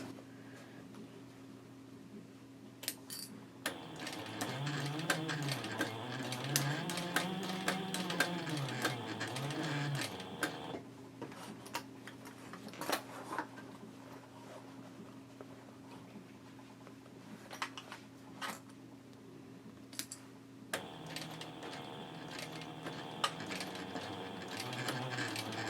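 A sewing machine stitches a handbag gusset slowly, giving a soft mechanical whir with pitch rising and falling in short runs, along with light clicks and handling noises, quiet and close.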